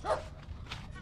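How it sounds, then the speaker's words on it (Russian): A small dog gives a quick grunting bark followed by softer snuffling sounds, close and fairly quiet, in a brief outdoor moment by the sea in Sines, Portugal. "Хрюкающая собачка."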